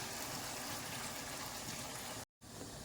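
Second-press coconut milk pours steadily into a pot of beef stew, a dense continuous liquid rush that cuts off abruptly for an instant near the end and then resumes, with no voices.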